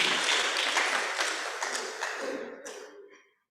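An audience at a policy dialogue on converting polytechnics to technical universities gives a round of applause, dense clapping that gradually thins and fades out to silence.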